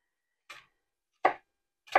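Three crisp knife cuts through the hard centre of an onion on a board, evenly spaced and close, each a short sharp chop with silence between.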